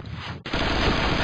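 Rapid gunfire in the game Point Blank, a loud sustained burst that drops briefly, then resumes even louder and continues dense and unbroken.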